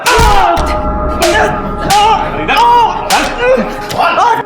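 Sharp thuds and slaps of someone being beaten land one after another in a lockup, with shouting voices over the blows.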